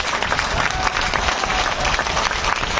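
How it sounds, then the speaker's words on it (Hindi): A seminar audience breaks into loud, vigorous applause, a continuous dense clatter of many hands with some crowd noise mixed in and no speech. "तो एक बार जोरदार तालियों से पड़ोसी को बता दीजिए"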